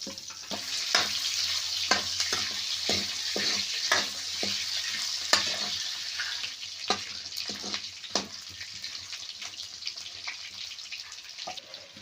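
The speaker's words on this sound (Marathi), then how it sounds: "आता थोडे वेळ परतून घ्यायचे तेलात चांगले" Vegetables sauté in hot oil in a pan for a bombil (Bombay duck) bhaji. A steady sizzle runs throughout, broken by scattered sharp clicks and scrapes of stirring.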